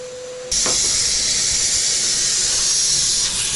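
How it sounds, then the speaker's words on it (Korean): A vacuum cleaner starts abruptly and runs as a loud steady hiss, sucking up dust while a ceiling is cut open during a leak repair; the whine holds level to the end with no talk. "요거는 진공 청소기로 먼지 나는 걸 제거하고 제거하면서 잘러 가고 있는 과정입니다."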